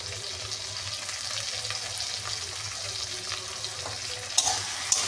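Fish roe curry base of spices with turmeric, coriander powder and salt sautéing in a pan, giving a steady close sizzle with constant stirring scrapes and two sharp clinks near the end, no talking.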